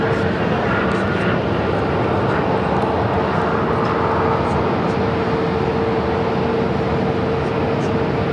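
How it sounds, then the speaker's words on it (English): An Airbus A321neo airliner at Phoenix airport gives a steady, continuous engine roar that holds at a broad, even level throughout with no break or clear build. "This is that flight that came in from Oregon and Nashville on this A321 Neo."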